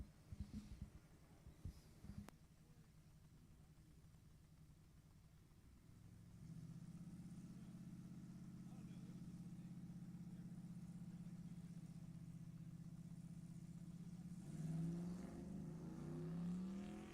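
A drag race car at Sacramento Raceway, running in a Sportsman ET bracket race, launches and accelerates hard down the strip in low gear. Its loud, sustained engine roar rises, holds steady and swells near the end, with no talk over it.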